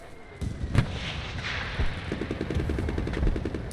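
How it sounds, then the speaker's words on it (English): Artillery barrage in the shooter game Enlisted, a dense run of booming blasts and crackling gunfire with sharp louder thumps near the start and middle, sustained and close throughout. "Artillery!"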